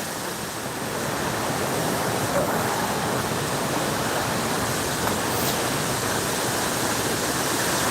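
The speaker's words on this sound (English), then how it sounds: "you could definitely body surf down that water." Loud, steady rush of river water running beside a walking trail, a dense continuous roar with no voices over it.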